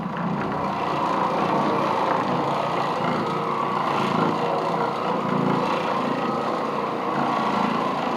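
An Oreck Orbiter carpet cleaning machine runs on new carpet with a constant, loud motor drone and grinding hum that holds steady throughout, with no talking.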